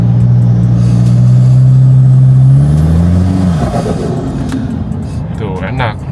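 A diesel 2GD biturbo car accelerates hard on an empty road, engine note rising steadily through the gears before shifting and easing off, loud and close from inside the cabin.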